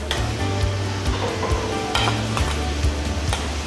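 Cauliflower rice with roasted zucchini and toasted pumpkin seeds stirred in a hot pan, a loud continuous sizzle broken by repeated scraping strokes of a utensil, with no talking.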